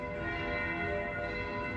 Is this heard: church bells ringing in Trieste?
yes